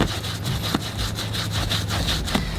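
A brush scrubbing along the seam of a leather car seat, steady close back-and-forth rubbing strokes with a rhythmic scratchy texture, fairly loud and continuous with no talking.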